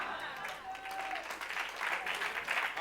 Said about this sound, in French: Acclamez, acclamez fort.